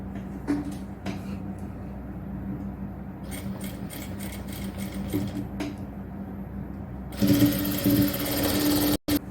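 Electric sewing machine stitching a frill onto an XL nighty, running in steady bursts with a soft mechanical whir and a louder, faster run near the end, no talking.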